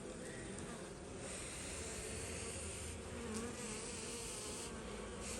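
Dense, steady buzzing of many honeybees swarming around an open hive at an apiary, close and continuous, with faint voices occasionally underneath.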